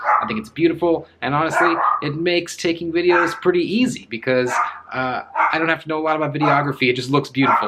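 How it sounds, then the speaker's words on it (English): A dog barks indoors amid household noise, its yips and barks partly buried under a woman's steady, close talking throughout. "You can probably hear the dog barking and the noises outside and all the things going on."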